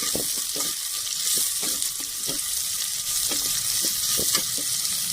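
Sliced onions with curry leaves and salt sauté in a pan for a village-style fish curry, giving a steady bright sizzle broken by irregular scraping stirs, close and alone with no voices.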